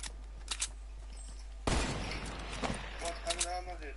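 Gunshots in the Fortnite video game: a sudden loud burst of rapid firing with crackling impacts lasting a couple of seconds, amid softer in-game sounds and brief talk.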